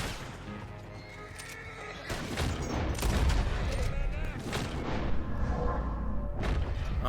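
Gunshots in Red Dead Redemption 2, a run of sharp reports and booms over a busy background of game noise, with a voice talking across part of it.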